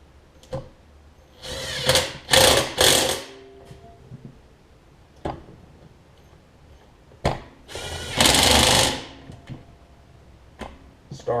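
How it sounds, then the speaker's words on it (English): Light cordless impact driver tightening bolts on a Hyper Tough push mower, several short loud bursts of whirring and hammering with pauses and small handling clicks between. "I like using the light impact because it doesn't provide enough force to strip the bolts"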